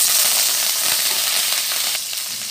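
Cumin seeds, dried red chilies and curry leaves sizzle steadily in hot oil while chickpeas are prepared, a loud, dense crackling hiss that holds without a break and eases slightly near the end.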